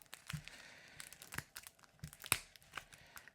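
Small scissors snipping and tearing through packing tape while unboxing a jaw harp, a few quiet crinkly cuts and rips spread irregularly, close and soft.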